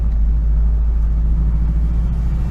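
Cabin rumble from a lifted Daihatsu Feroza driving over a bumpy road in Bali: a deep, steady engine and road drone close up, with faint knocks from the bumps and no voices.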